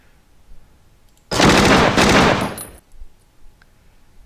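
Heavy machine gun fire in the wargame Tigers on the Hunt, one loud sustained burst of rapid rattling shots lasting about a second and a half, close and harsh, then a quiet tail.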